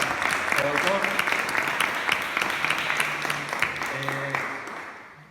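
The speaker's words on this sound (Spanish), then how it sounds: "Un aplauso para el autor." An audience at a Spanish book presentation applauds the author with dense, steady clapping that fades toward the end, while a few voices speak briefly over it.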